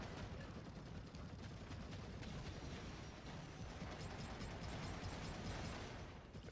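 Dense, continuous gunfire in the video game Warhammer 40,000: Eternal Crusade, with rapid shots and booming blasts merging into a steady, fairly faint barrage that carries on throughout without a break.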